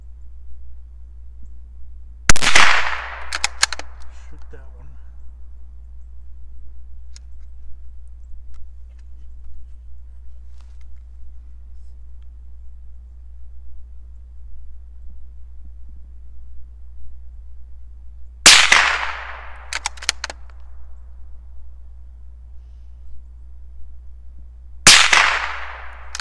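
Rifle gunshots fired while zeroing a Riton X5 scope, three sharp reports spaced well apart, each followed by a short echoing tail over a low steady hum.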